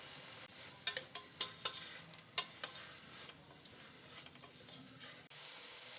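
Brinjal pieces frying with ginger garlic paste and red lentils (masoor dal) in a pan, with a steady sizzle under sharp scraping stirs of a spoon against the pan, several clustered strokes in the first few seconds.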